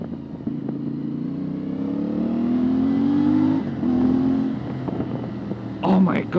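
CFMOTO 450MT motorcycle accelerating hard, its engine note climbing steadily in pitch through a long pull with a brief shift partway, heard from the rider's position with wind rush and the rider exclaiming near the end.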